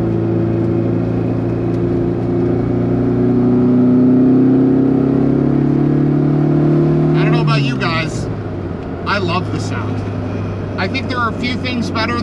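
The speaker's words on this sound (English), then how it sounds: "a small four-cylinder engine with a couple carbs on it. It's just throaty" A throaty small four-cylinder engine with twin carburetors in a 1983 Autobianchi A112 drones loudly, pitch climbing and then dropping, while people talk over it near the end.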